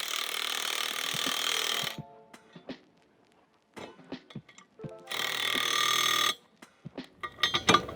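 Power tool tightening down a target bracket on an AR550 steel target, two sustained whirring bursts of about two seconds each, separated by scattered clicks and knocks of metal parts being handled.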